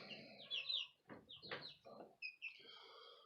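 A small flock of chickens in their coop gives soft, scattered clucks and short chirpy calls, close and fairly quiet, with brief pauses between them.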